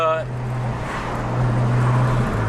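A Nissan Skyline R33 with its 2.5-litre RB25 engine runs at a steady idle, a low continuous hum held close and moderately loud, with a person talking over it at the start.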